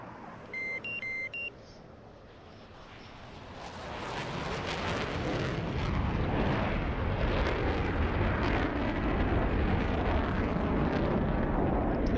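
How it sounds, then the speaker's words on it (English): An F/A-18 Super Hornet jet in DCS lights its afterburner after a few short electronic beeps, building from quiet into a loud, sustained, broadband roar that holds steady to the end. "unpause afterburner"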